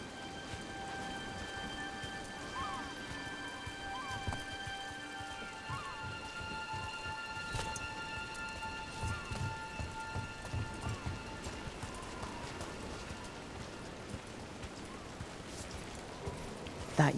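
Steady rainfall in the fantasy game Dragon Age: The Veilguard, a continuous hiss of drops spattering on surfaces with a faint low rumble beneath, and a sustained musical drone running through the scene.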